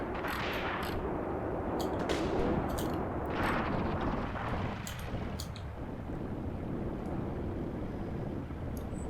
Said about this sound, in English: Okay, so the machine gun definitely down there.